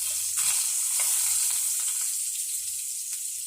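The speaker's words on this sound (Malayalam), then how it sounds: "ഇനി നമുക്ക് 2 കഷ്ണം ചിക്കൻ എടുത്തിട്ട് നന്നായി ഫ്രൈ ചെയ്തെടുക്കാം" Two chicken pieces frying in hot oil, giving a steady, continuous sizzle with faint bubbling crackle close by, with no talking.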